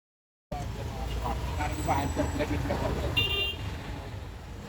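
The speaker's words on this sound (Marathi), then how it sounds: "शिवसेनेचा प्रचार होतोय, त्यामुळे पूर्ण ट्रॅफिक जाम झालेली आहे." Road traffic stuck in a jam during a Shiv Sena campaign rally, a dense roar of engines with scattered horn toots and a voice talking over it.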